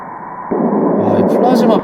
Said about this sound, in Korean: 이 플라즈마파를 이제 그 파형을 소리로 변환시킨 거